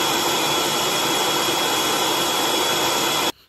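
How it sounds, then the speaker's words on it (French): A blender purees tomatoes, celery and other vegetables with a little water. It gives a loud, steady, close whirring roar for over three seconds, then cuts off abruptly. "là je finis de mixer tomates, légumes"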